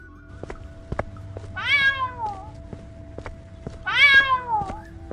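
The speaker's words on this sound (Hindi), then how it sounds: "अरे ये तो बिल्ली है।" A cat meows twice, each a clear drawn-out cry a couple of seconds apart, close by against a quiet room with a few soft clicks and taps.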